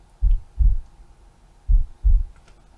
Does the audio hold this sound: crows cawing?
no